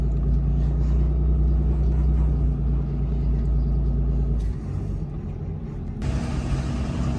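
A truck tows a loaded 24,000 lb GVWR hooklift trailer: a loud, steady road rumble and engine drone heard from inside the cab, with a slight drop in level midway before rising again.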